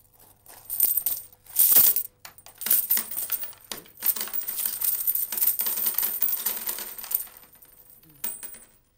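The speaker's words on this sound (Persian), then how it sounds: "عجب صدای دلانگیزی دارد این سکه ها." Coins are dropped and counted: metallic clinks and jingling cascades come in bursts, with a loud spill near the start and then a run of steady, close clattering that trails off near the end.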